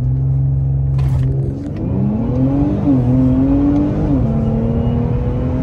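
An Infiniti Q50 Red Sport launches and accelerates hard, its engine note rising steadily through the gears. A loud, close rumble fills the recording, with a brief clatter near the start.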